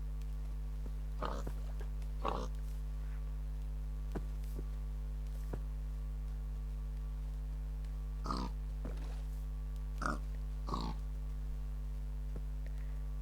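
Minecraft pigs oink and grunt in a few short, spaced calls, some in quick pairs, over a steady low hum; the pigs sound moderately close, and no one speaks.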